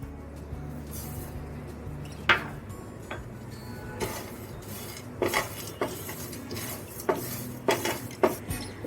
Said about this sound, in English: take the flax seeds, pumpkin seeds, and sesame seeds and roast them for around 2 to 3 minutes on low flame